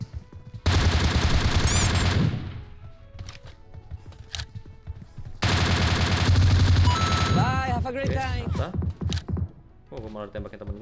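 Automatic gunfire in PUBG Mobile, two long loud sustained bursts with single shots scattered between them, under intermittent voice chatter and game sounds.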